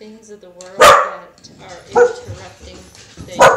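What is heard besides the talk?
dogs barking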